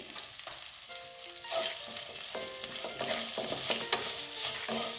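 Red chilli powder and turmeric sauté with chillies in an oiled pan for a masala mirchi dish. A soft sizzle swells after a quiet start, with occasional stirring clinks and faint tonal background sounds.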